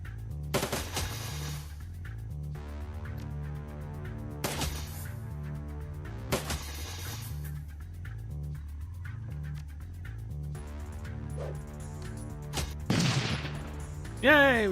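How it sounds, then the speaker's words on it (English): Burst-fire gunshots from a Shadowrun: Dragonfall battle crack out as a few sharp, separate bursts over a looping electronic music track, with a louder sweeping impact near the end. "We can try burst fire."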